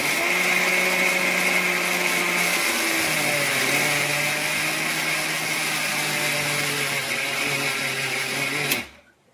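A mixer grinder pulverises roasted dried coconut into fine powder, its loud, steady motor whir running for about nine seconds before cutting off abruptly into quiet.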